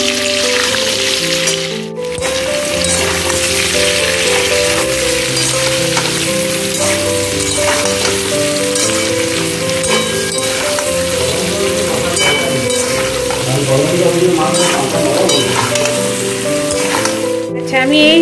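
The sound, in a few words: potatoes frying in oil with salt and turmeric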